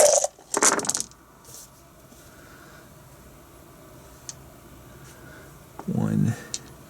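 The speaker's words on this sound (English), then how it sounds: "these guys will only be rolling 9 dice" Dice clatter across a table during a tabletop wargame siege battle, two quick rattling bursts at the start and another near the end, fairly close, with quiet talk in between.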